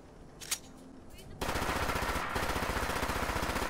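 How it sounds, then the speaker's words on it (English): A fully automatic Glock 19 fires in Fallout 4, a fast continuous burst of gunfire that starts abruptly and runs steadily to the end, preceded by a couple of quiet clicks and handling sounds. "I have this fully automatic Glock 19."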